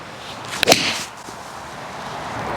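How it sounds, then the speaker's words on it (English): A Ping G440 7 iron strikes a golf ball with one sharp, loud crack, followed by a brief whooshing tail as the ball flies off, then quiet outdoor ambience. "a loud crack to that off the club face"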